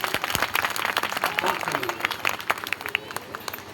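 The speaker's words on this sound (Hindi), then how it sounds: "इनके लिए बहुत तेजी से एक बार ताली बजा दीजिए" Dense, crackling applause and sharp hand claps from an audience at a Bahujan Adhikar Morcha gathering run steadily throughout, with a voice mixed faintly underneath.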